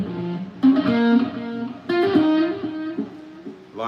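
Guitar legato warm-up exercise starting with the third finger, with smooth connected notes in short phrases and a couple of stronger picked attacks, played up close with no talk.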